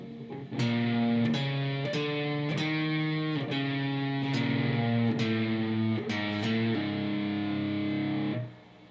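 Electric guitar playing part 2 of a turnaround slowly, a steady run of distinct picked notes and double stops with a gritty, driven tone, close and solo, then cut off near the end.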